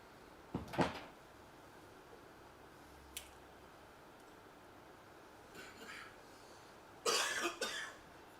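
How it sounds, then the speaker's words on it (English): Several quiet coughs in a hushed room: one near the start, a faint pair midway, then a louder cluster toward the end. "You know why I cough?"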